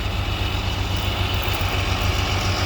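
An 8230 tractor idles close by with a steady low diesel rumble and faint rhythmic pulsing, and nothing else is heard over it.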